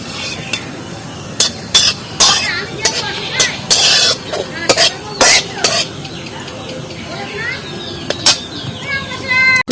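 Turmeric-coated mango pieces for sweet Bengali mango pickle go into cooled mustard oil with five-spice and get stirred, giving a run of loud clinks and scrapes from a spoon against the pan with a soft sizzle between them.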